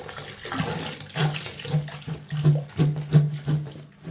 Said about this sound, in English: now it's in with the juice